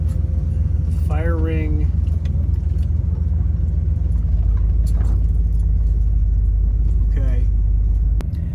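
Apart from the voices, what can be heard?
air conditioning running in a camper van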